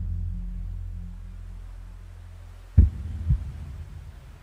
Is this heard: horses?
no